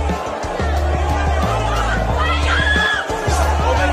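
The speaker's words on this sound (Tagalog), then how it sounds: "Crowd getting excited." Dense roar and chatter of a boxing crowd during a Magsayo fight, loud and continuous with rising shouts and whistles, under a commentator's voice.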